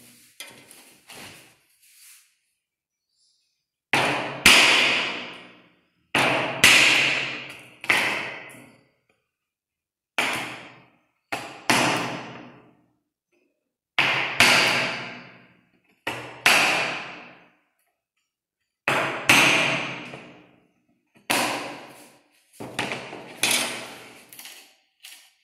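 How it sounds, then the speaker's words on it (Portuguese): A chisel struck by a hammer into wooden door trim, cutting a hinge recess: bursts of rapid sharp knocks and scraping chips in groups of a few seconds, separated by silent pauses, close and fairly loud. "Vou usar o formão."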